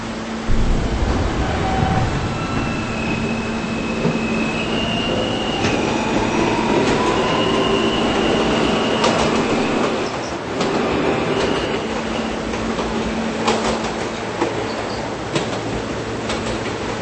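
A video game subway train, a 53rd Street bound Q Express, rumbles along steadily, wheels clattering and squealing with a sustained metallic whine, loud and continuous throughout.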